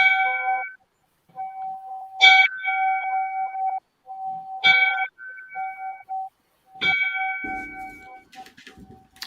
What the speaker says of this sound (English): So Coop is going to give him the 5 bells.